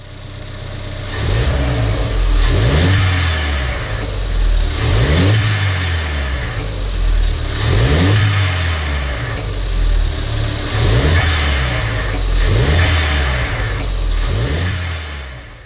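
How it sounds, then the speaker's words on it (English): A turbocharged Ford Fiesta engine revs repeatedly in a steady cycle, each rev ending in a brief whooshing release of air from the dump valve as the throttle drops. "Sounds to me like I can hear when the dump valve is opening."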